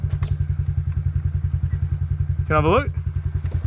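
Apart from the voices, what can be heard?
Honda CRF50 big bore motorcycle with blown engine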